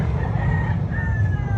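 A gamecock crowing at a rooster expo in Carbon Public Market, Cebu City, a drawn-out crow riding over a dense, loud market hubbub.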